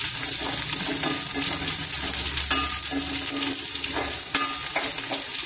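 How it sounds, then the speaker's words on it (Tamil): Karivadam seasoning balls sautéing in a pan for vatha kuzhambu, a loud steady sizzle close by with occasional sharp spatula taps and scrapes throughout. "இப்போ கறிவடாம் போடுறேன். இதை நல்லா வதக்கிக்கணும்."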